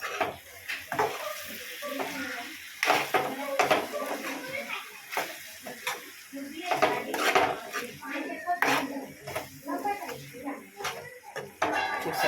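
A spoon stirs chicken fry curry in a cooking pan over steady sizzling, with clinks of metal on the pan, while someone talks over it and a voice is heard.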